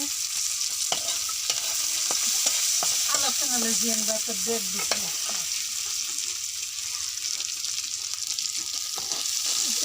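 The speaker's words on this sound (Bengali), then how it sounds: "হালকা ভাজা হলে নামিয়ে নেব।" Onion, garlic and dried chili frying in a little oil for dried fish bhorta, a constant bright sizzle with scattered spatula taps and stirring scrapes close by, and a brief faint voice in the middle.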